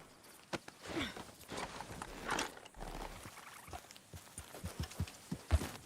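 Horse hooves clip-clop at a walking pace in Red Dead Redemption 2 game audio, with an irregular run of moderately loud thuds and a few scattered clatters.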